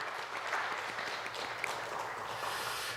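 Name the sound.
congregation applause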